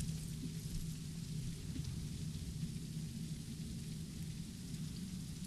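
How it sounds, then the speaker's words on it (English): Steady nighttime rain pours in the Direct Contact video game, a constant hissing wash with a heavy low rumble, continuous and fairly close, with no voices. "Nighttime and rainy, jeez."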